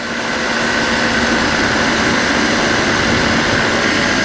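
Light aircraft engine in flight holding just under 7000 RPM, a steady loud droning hum with constant pitch and no variation, heard alone without talk.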